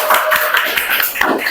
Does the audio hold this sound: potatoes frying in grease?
no